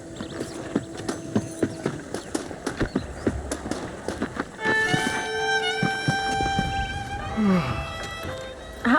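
Horse hooves clop in the Red Dead Redemption video game, a brisk rhythmic run of close hoofbeats for about four seconds, followed by other tonal game sounds and a brief snort.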